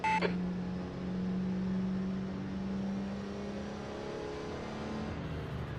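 A Porsche 956 Group C race car in a racing video game set at Sebring runs at low revs, a steady droning engine hum with a short electronic beep at the start.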